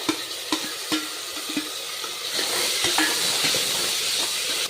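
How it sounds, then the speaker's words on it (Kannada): Chopped tomatoes dropped into a hot pan with ginger paste for capsicum rice, giving a steady bright sizzle that swells and stays loud, with soft stirring clicks early on. "ಈಗ ನೋಡ್ರಿ, ಟೊಮೆಟೊ ಹಾಕೋತೀನಿ."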